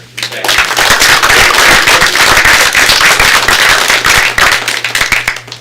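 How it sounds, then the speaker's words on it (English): Audience applause at a board meeting, a sustained burst of dense clapping that builds quickly, holds steady and loud for several seconds, then tapers off at the end. "We'll send you off with another applause here."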